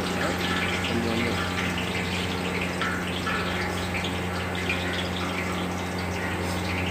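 Water streams steadily into onion pakoda batter in a kitchen, a continuous even rush lasting throughout over a constant low hum.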